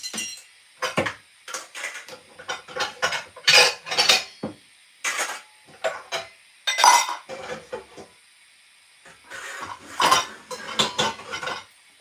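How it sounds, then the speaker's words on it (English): Metal cutlery clinks and clatters in short bursts with brief pauses, as pieces are handled and dropped together close by. "I'm organizing my cutlery as usual"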